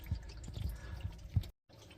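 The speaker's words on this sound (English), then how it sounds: "You can hear the tank draining." Water draining from an RV water heater tank, a steady trickling and dripping with low gurgles and occasional soft plops, close by, with a brief dropout near the end.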